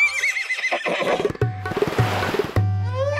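A horse gives a loud, quavering neigh, then clip-clop hooves and snorts follow, heard close and clear without speech.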